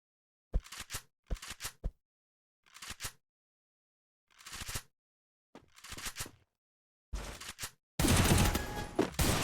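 Gunfire rings out in the Free Fire video game during a 2 vs 2 match, with several short separate bursts of rapid shots spaced by silences, ending in a long dense volley.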